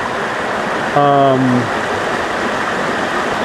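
Creek water runs steadily at Dog Creek on rural California acreage, a continuous broadband wash throughout, with a brief voice speaking over it partway through.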